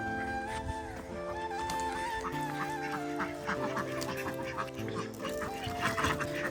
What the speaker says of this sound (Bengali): হাঁস নিতে এসে চলে যাবো, সব হাঁস শান্ত একদম